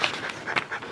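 Mr. Zeus, a dog, pants softly in a room in quick breathy puffs, with faint voice traces around it.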